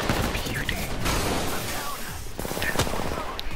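Rapid automatic gunfire from a video game gun rattles in dense bursts across the clip, loud and close. Mechanical clicks sit among the shots.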